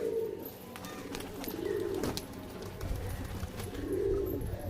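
Pigeons cooing inside a loft, low soft coos recurring over a steady murmur of other birds, with occasional wing or handling noises close by.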